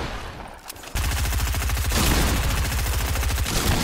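Rapid automatic gunfire in Fortnite, a loud, sustained stream of evenly spaced shots that starts abruptly after a quieter moment and rattles on without pause to the end.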